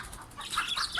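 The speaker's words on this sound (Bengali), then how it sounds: "এই যে আমার দুটো দেশি মুরগি" Two native deshi hens cluck in short, irregular bursts close by at a backyard poultry cage, with a brief flutter of wings among the calls.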